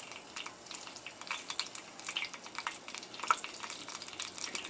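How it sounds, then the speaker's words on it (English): Food frying in hot oil in a pan while cooking arroz con gandules, a faint, steady crackling sizzle with scattered small pops, heard alone at a distance. "what we're looking for is that little shimmering sizzling"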